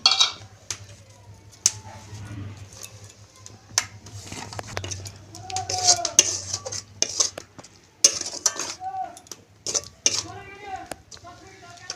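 Coconut filling for suji pitha is stirred in a pan, with a spoon clinking and scraping against the metal in irregular bursts while someone talks over it.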